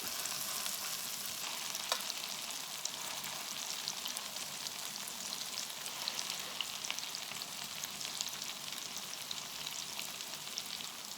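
Broccoli latkes, keto and kosher, frying in a pan with a steady, soft crackling sizzle and scattered pops throughout, faint and even, with no voices.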